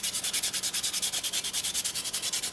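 Steady back-and-forth sanding of a soapstone seal carving with sandpaper, a rhythmic raspy scrub repeating about ten times per second, close and loud with no voices.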